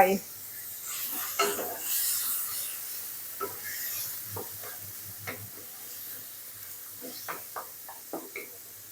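Eggplant and kaffir lime leaves being stir-fried in a pan for a spicy pork stir-fry, with scraping and stirring strokes over a faint steady sizzle, irregular spatula clatters throughout.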